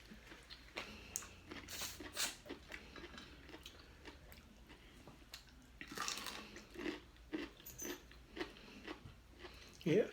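Close, soft crunching and chewing of a seafood boil, with irregular bites and mouth sounds and brief talk between them at a quiet level.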